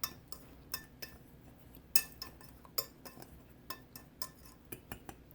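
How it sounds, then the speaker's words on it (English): Dry muffin ingredients being mixed in a bowl with a utensil, producing quiet, close clinks and taps against the bowl in a loose, irregular rhythm, with soft scraping between the hits. "So we're going to just mix this up very well."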